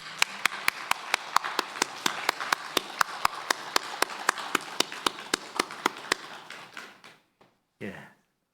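A church congregation claps in a steady, even rhythm during a Sunday worship service. The clapping is sharp and regular and fades into a few scattered claps at the end.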